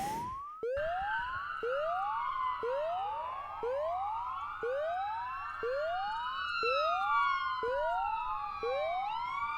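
A police car siren wails close by, its falling whoops repeating about once a second with overlapping tones, steady and loud for the whole stretch with no talk over it.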